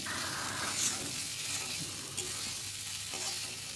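Kohlrabi sautéing with tomato and peas in a pan, a steady soft sizzle with occasional stirring scrapes, continuous and close with no talk.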